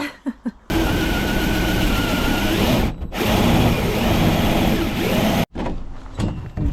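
A loud, grinding whir of a power drill boring into wood in a Vauxhall Vivaro van, running in long continuous bursts, briefly stopping and restarting, close up, until the drill burns out smoking.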